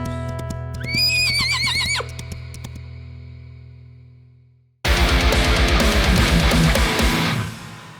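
A horse called Horace gives a high, wavering whinny lasting about a second, followed after a pause by a sudden loud, dense burst of broadband noise.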